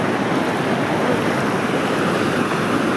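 Floodwater rushing through Mahuva after a night of heavy rain, a loud dense roar of churning water with wind buffeting the microphone, continuous and without speech.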